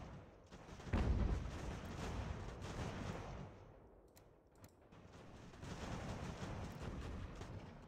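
Artillery fires canister shot in the Ultimate General: American Revolution video game, a heavy boom early on followed by rumbling battle noise and a second swell of sustained firing.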